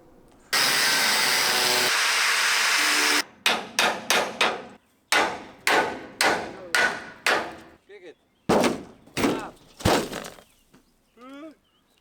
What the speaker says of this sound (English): just hammer the upper part out and hammer this one out